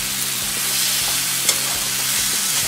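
Tomatoes fry in oil in a pan for a mixed vegetable sabzi. There is a steady, even sizzle with faint scraping stirs at intervals and one brief clink near the middle, and no voices.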